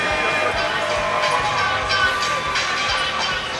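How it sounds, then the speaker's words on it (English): A crowd at a Battle Court jai-alai championship applauds and cheers the Fall 23 champions, a dense, loud, continuous roar of clapping and voices that fills the whole moment. "one more round of applause for your Fall 23 Battle Court champions, the Rabote Renegades"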